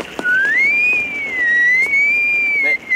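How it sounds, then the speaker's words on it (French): A person whistles one sustained, wavering note that bends up and down like a signal, loud and close, with faint background noise. "Pourquoi siffles-tu comme ça? On dirait un signal."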